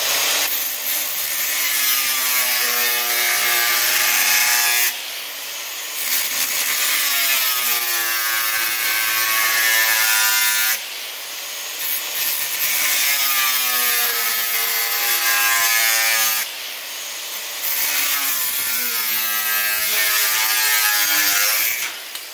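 Scrap steel body panels are cut and cleaned up with a power tool, which gives loud rhythmic grinding strokes of rising and falling pitch, repeated in long passes broken by short pauses.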